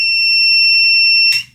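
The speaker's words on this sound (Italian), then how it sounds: "come avete sentito si è azionato il cicalino, il buzz, perché effettivamente questo motorino ha la 15 volt in corto" A buzzer on an air conditioner fan circuit board, sounding because the fan motor has a shorted 15-volt supply, gives one loud, steady, high electronic tone close by that cuts off abruptly.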